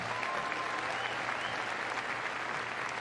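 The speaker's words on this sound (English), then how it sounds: "Give her a big round of applause as she comes in the arena." Steady applause from a crowd in an arena at Crufts 2014 heelwork to music freestyle competition fills the whole stretch, a dense even wash of clapping without pauses.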